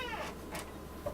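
A cat gives a couple of soft, short meows, fairly faint against a quiet room hum.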